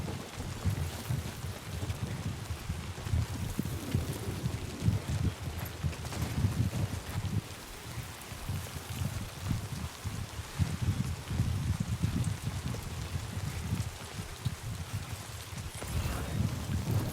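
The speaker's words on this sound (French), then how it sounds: "Il pleut, il pleut." Steady rain in the video game Death Stranding 2: a continuous broadband hiss over a low, rumbling wash that holds throughout with no voices.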